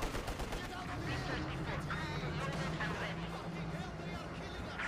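Gunfire from sniper and machine guns in the World War II strategy game Company of Heroes 2, steady clattering bursts and rumbling battle noise running throughout with no pause.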